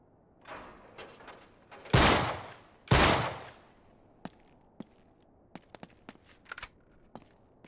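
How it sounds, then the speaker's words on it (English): Two loud, sharp gunshots about a second apart blast at a lock in Uncharted 3: Drake's Deception, preceded by faint shuffling and followed by scattered small clicks and knocks. "I'll shoot the lock."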